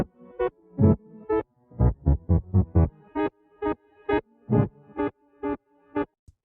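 A reversed synth part layered with a low octave beneath plays as a series of swelling, choppy notes, a steady rhythmic run of about fifteen hits, loud and close with no voices.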